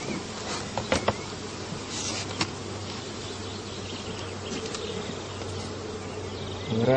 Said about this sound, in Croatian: Pčeli su svi izašle na sanduk.